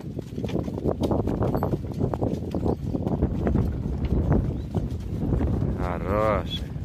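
A horse's hooves clip-clop in a steady walking rhythm during an outdoor ride. Wind rumbles over the microphone and a person talks underneath.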